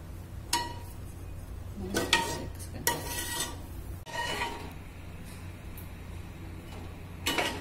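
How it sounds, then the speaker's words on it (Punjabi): Kadhi being ladled from a pot into serving bowls, with several sharp metallic clinks and scrapes of a ladle against steel vessels scattered over a low background hum, no talking. "ਅਤੇ ਹੁਣ ਆਪਾਂ ਪਹਿਲਾਂ ਕੌਲੀਆਂ ਦੇ ਵਿੱਚ ਪਾ ਲੈਂਦੇ ਹਾਂ ਖਾਣ ਵਾਸਤੇ"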